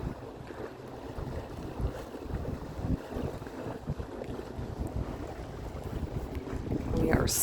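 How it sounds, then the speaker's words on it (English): A sailboat on a leisurely beam reach with both sails up near Friday Harbor, with steady wind buffeting the microphone and water washing along the hull, and soft voices now and then. "Both sails are up. Nice leisurely sail."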